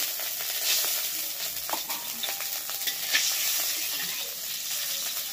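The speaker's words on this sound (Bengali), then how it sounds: "এবার এই তেলের মধ্যে দিয়ে দিচ্ছি পাঁচ ফোড়ন।" Panch phoron spices dropped into hot oil after cauliflower and beans were cooked, giving a continuous crackling sizzle with light scrapes and taps of a spoon, close and steady, no speech.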